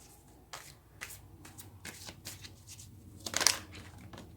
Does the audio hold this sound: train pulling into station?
no